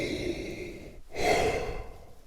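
A brass player's long, hollow breath drawn in close up through a tube, with a rough, resonant rasp, after a brief pause.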